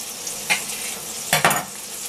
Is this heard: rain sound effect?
no